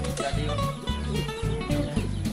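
Chickens cluck close by in repeated, rhythmic bursts, loud and busy, with no one talking.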